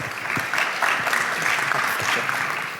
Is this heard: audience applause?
yes